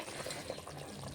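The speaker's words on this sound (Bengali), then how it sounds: "ঝোলটা ফুটে উঠেছে" A fish curry with potato and cauliflower bubbles in a pot, giving a soft, continuous simmering burble with small pops, quiet and close, without any talk.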